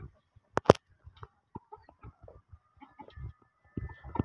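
Chickens, including Aseel and Egyptian hens, give scattered short clucks and squawks at close range amid light scuffling at feeding time, with some louder bursts near the start and end.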